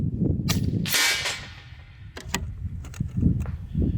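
An air rifle fitted with a Discovery Optics ED-PRS 4-20x52 scope fires a JSB pellet at a target 66 yards away. One sharp, close report rings out and is followed by a few faint clicks and knocks outdoors.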